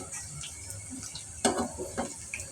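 Chicken noodle rolls fry in oil, a quiet steady sizzle with a couple of louder stirring scrapes in the middle, close by and without speech.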